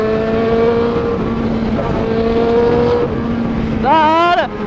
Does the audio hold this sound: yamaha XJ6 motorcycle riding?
yes